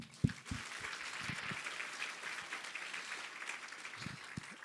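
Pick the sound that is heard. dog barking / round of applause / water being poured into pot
round of applause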